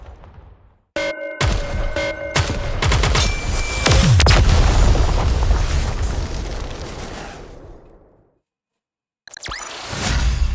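Gunfire in the video game Nikke: a long continuous automatic burst with booming impacts, loud and close, tapering off into silence before a brief new burst at the end.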